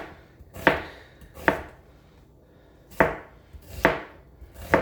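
A knife chops through a small whole onion on a cutting board, five sharp, distinct chops at uneven intervals, close and clear with no talking.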